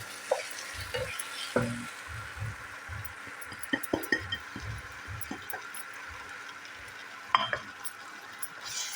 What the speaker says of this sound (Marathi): परत परतून घेऊया